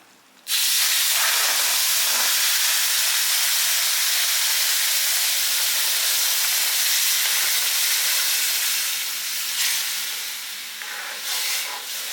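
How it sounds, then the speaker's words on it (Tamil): A loud, sustained hiss and sizzle of boiling water poured onto roasted semolina in a hot pan for rava kesari, steaming continuously for several seconds up close, easing slightly near the end. "இப்போ இந்த கொதிக்கிற தண்ணியை வந்து நம்ம இதில் சேர்க்க போகிறோம்"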